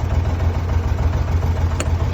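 A Massey 135 tractor engine runs steadily after a spark plug change, a smooth, even idle with a low rhythmic throb held close and loud throughout, with no voices.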